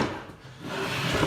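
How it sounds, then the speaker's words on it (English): A wooden drawer slides and rubs as it is pulled fully out of a cabinet during storm and water damage repairs, a short, close, continuous scraping sound with no talk. "I will pull the drawer completely out"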